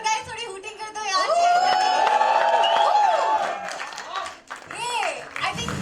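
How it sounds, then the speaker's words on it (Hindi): An audience at a film trailer launch event hoots and cheers, with whistles, shouts and some clapping in a lively crowd roar that rises and dips over several seconds. "Come on guys, थोड़ी हूटिंग कर दो यार।"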